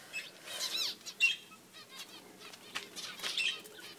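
Finches and baby quails in a cage flapping their wings, quick fluttering bursts close by at irregular intervals, with a few faint chirps and squeaks between them.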